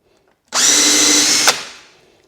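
A drill boring a hole with a Forstner bit through a Kreg concealed-hinge jig runs as one steady, loud high-pitched whine for about a second, then winds down and fades out.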